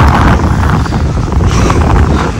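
Steady wind rushes across the microphone outdoors in a park, a loud, continuous roar with no talking.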